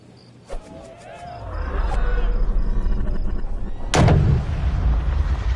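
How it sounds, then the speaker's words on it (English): A golf ball is struck off the club face in a PGA Tour video game with Rory McIlroy. A soft click comes early, then a loud, sharp, cannon-like crack lands near the end over a steady background rumble. "Frank, did you hear the sound of that coming off the club face? It was like a cannon."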